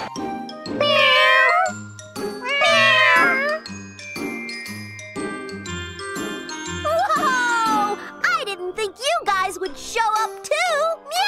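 A chorus of cartoonish cat meows from the game BlazBlue: Continuum Shift, many voices overlapping in bursts with tinkling chimes and bouncy game music beneath.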